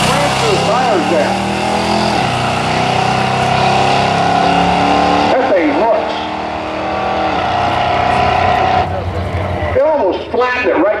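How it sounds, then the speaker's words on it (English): Pontiac LeMans 455 drag car launching at a drag strip, a loud roaring engine with rising revs that builds, drops at a gear change and climbs again, with a commentator talking over it. "I love watching this car launch"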